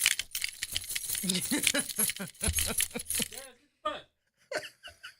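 Keys jangle and clink in a metallic rattle beneath overlapping voices and laughter, then a few brief jingles sound alone after the talk fades.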